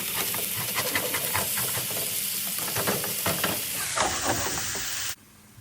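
A spatula scrapes browned potato starch from a pan of hot frying oil, with rhythmic scratching strokes over a steady loud sizzle that cuts off abruptly near the end.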